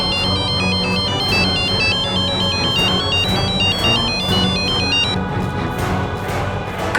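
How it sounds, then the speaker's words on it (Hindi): A mobile phone plays a melodic ringtone that repeats in a steady looping pattern for several seconds over a dramatic music bed. It rings loudly and then cuts off near the end. "कबीर फोन उठाओ"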